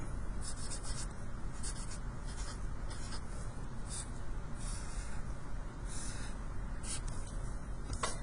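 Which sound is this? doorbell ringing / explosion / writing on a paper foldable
writing on a paper foldable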